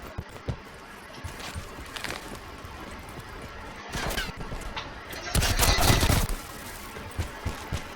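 SAUG 9mm submachine gun firing in Call of Duty Black Ops 4: scattered short bursts, then one longer rapid burst near the end, set against game ambience.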